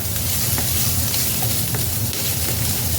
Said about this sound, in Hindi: यहाँ पर देखिए हल्का सा मैंने इसको भून लिया है सब्जियों को